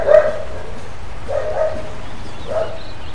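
A pet dog barks three times at an even pace, close and fairly loud, each bark short and bright over a low background rumble.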